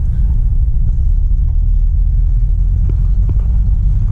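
A 1937 Packard 120 with a straight-eight engine cruises in third gear, a loud steady low rumble heard from inside the car, with faint road noise and no talk.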